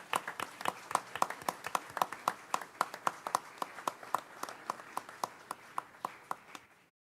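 Applause at a school board meeting, a small group of hands clapping in a quick, fairly even rhythm, individual claps distinct and moderately distant, stopping abruptly after about seven seconds.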